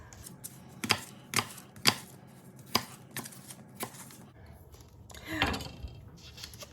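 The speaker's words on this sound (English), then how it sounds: "I'm just gonna hurry up and dice these." Apples are diced with a knife on a paper plate, giving a series of sharp, close chops in an uneven rhythm, about seven distinct cuts, then a scraping shuffle of the pieces near the end.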